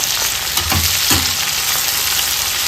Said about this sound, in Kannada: ಒಂದು ಟೊಮೆಟೊನ ಹಾಕೊಳ್ತಾ ಇದ್ದೀನಿ. ಒಂದು 2 ನಿಮಿಷ ಫ್ರೈ ಮಾಡ್ಕೊಳ್ಳೋಣ.